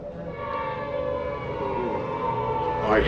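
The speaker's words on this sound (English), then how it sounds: "So I'm playing the air raid siren now." An air raid siren wails steadily at close range inside a former asylum once used as a war hospital, its long droning tone holding for several seconds and rising slightly near the end.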